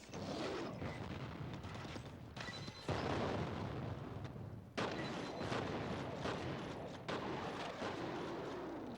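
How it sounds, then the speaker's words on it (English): Gunfire and a frag grenade blast from the shooter game F.E.A.R. Extraction Point, a loud rolling burst of booms and shots that comes in several heavy bursts with short pauses, with no talk over it. "I tossed that frag in case that one paths over there, so it'll stun him"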